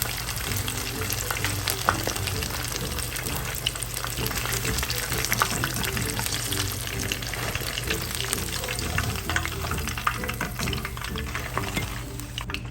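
Fish pakora pieces fry in hot oil with a steady, dense crackling sizzle, while occasional stirring adds soft scraping and clinks throughout.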